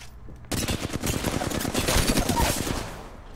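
Rapid automatic gunfire from the video game Apex Legends rattles in a dense, steady burst of close shots that starts abruptly and continues for about three seconds.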